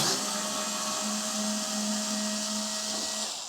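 A small electric screwdriver whirs steadily and close by while removing screws from a Wahoo Kickr Headwind trainer fan, one continuous motor drone with a faint rising tone that tapers off at the end.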